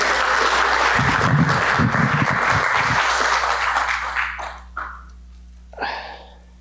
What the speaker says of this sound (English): Round of applause for Michelle for all her hard work